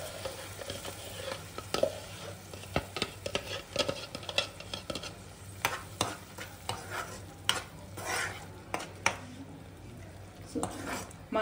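A finely ground masala paste sizzles in ghee in a pan for paneer masala while a utensil stirs and taps against the metal, giving a busy run of clicks and scrapes over a low frying hiss, close by.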